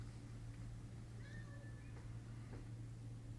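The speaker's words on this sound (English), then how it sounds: "That was my kitty cat." A pet cat meows faintly in a home during a Zoom tutoring session, one thin drawn-out mew followed by a short second call, heard under a steady low hum with no speech.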